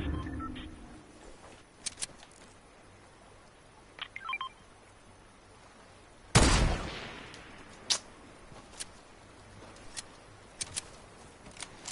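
Scattered Fortnite gunfire: a few sharp shots, one loud close blast in the middle, and distant pops and clicks, no talking.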